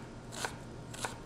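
Two crisp knife chops on a cutting board, spaced about half a second apart, quiet against a faint background hum.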